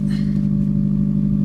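Mazda MX-3 engine idling on a brisk morning shortly after starting, with a slight exhaust leak; a steady, close, low rumble that holds even throughout.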